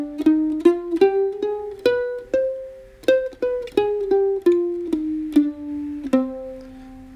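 A C harmonic minor scale rings out note by note on a keyboard, about a dozen evenly spaced tones climbing then descending, clear and close with no talking.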